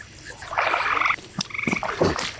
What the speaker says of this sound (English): Nice. That's a big old frog.